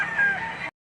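A rooster at the Lipa livestock auction market in Batangas gives a short, fairly close crow that cuts off abruptly.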